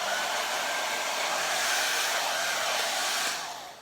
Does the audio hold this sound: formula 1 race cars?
no